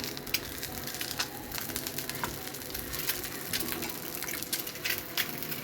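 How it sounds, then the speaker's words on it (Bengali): An egg frying in a pan for breakfast gives a steady, close crackle and sizzle with scattered sharp pops, continuous and fairly quiet, with no talking. "আমার জন্য সকালে ডিম ভেজে নিচ্ছি।"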